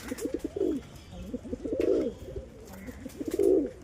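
An Andhra pigeon coos in three close, soft rounded phrases at a steady rhythm, near and clear with no talk over it.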